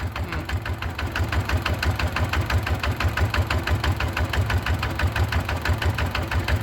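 A six-wheel truck engine runs steadily on a narrow road, its low, even knocking throb continuing close and loud without a break.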